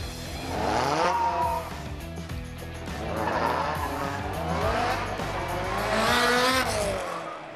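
Ariel Atom race car lapping a roundabout, its loud engine revving up and down through gear changes while the tyres squeal, staying close and intense over several seconds with no talking.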